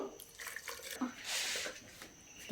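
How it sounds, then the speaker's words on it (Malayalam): Water poured into a spiced beef roast mixture in a pressure cooker, a soft splashing hiss swelling briefly at mid-clip amid faint kitchen noise, with no talking. "ആവശ്യത്തിന് വെള്ളം ചേർത്ത് കൊടുക്കുന്നു"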